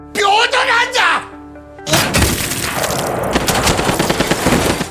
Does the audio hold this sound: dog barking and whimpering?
no